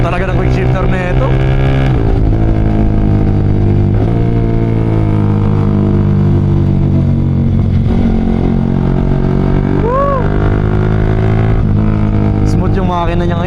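Yamaha R15 V3 motorcycle engine fitted with a quick shifter, running steadily and loud throughout with rising rev sweeps near the end; someone talks over it.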